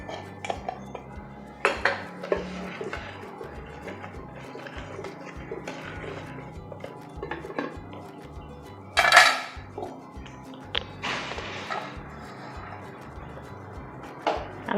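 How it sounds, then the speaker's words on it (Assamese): Pots, pans and cutlery clank and clink around a home kitchen stove as a kadai wok is set down for frying fish in mustard oil, with scattered sharp knocks and a louder metallic clatter partway through, no talking. "আনফালে কেৰাহী বহাই দিছোঁ।"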